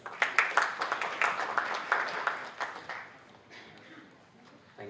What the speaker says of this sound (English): Let us have a round of applause.